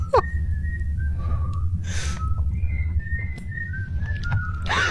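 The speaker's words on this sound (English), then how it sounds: "now he's going to be whistling" A ghost whistles in a video game, a thin wavering tune of sliding held notes drifting up and down over a steady low hum, with brief breathy sounds between phrases.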